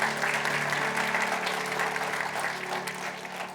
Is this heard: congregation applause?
yes